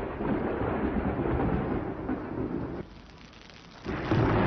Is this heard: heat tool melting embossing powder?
no